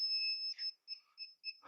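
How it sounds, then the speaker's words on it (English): A beeping alarm goes off in a truck parking lot packed with rigs, sounding repeated short, shrill electronic tones in an uneven pulsing pattern that ends with a brief burst of broadband noise. "Oh, the alarm's going off."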